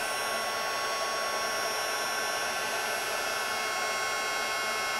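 Heat embossing tool blowing hot air to melt embossing powder on a card, a steady loud whirring fan hiss with a high whine, continuous and unbroken.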